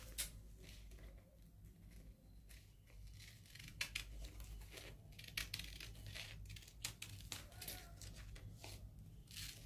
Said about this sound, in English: I need to give it a little trim from this side.